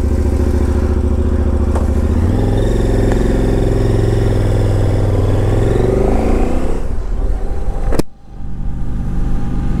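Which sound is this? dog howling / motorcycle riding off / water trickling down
motorcycle riding off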